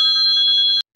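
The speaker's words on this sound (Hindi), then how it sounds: "चुप, जान के फोन आ गई।" A phone rings with a single sustained electronic bell-like tone lasting nearly a second, loud and close, then cuts off abruptly.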